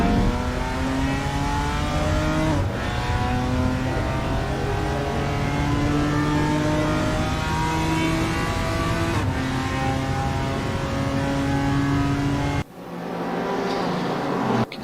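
A race car in a GTR 4 series round at Mantorp Park accelerates hard down the straight, its engine note climbing steadily and loud through repeated gear pulls, then cutting out sharply near the end before another car's noise rises.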